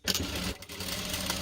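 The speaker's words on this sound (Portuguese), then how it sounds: "agora passo uma costura aqui por dentro" A sewing machine runs a short burst of stitching along a seam on fabric for a small cloth bag, its motor whirring close and steady for just over a second.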